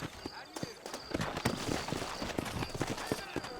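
Horse hooves clip-clopping in the video game Red Dead Redemption, a steady run of hoofbeats set among dense game sound with voices talking over it.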